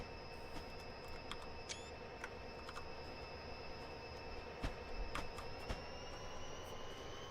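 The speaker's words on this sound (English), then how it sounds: "Why is our train having trouble decelerating?" A faint, steady train rumble in the video game Train Simulator 2018, with a thin tonal whine and occasional light clicks, running evenly throughout with no voices.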